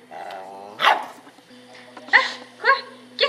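A dog barks in several sharp, loud bursts close by, with a whining, whimpering tone at the start and pauses between the barks.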